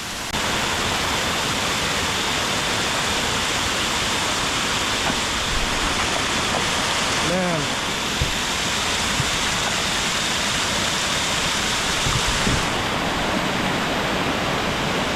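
Rushing stream water in Santa Ana, El Salvador, a loud, steady broadband roar of flowing current that fills the whole stretch, close and continuous with no talk.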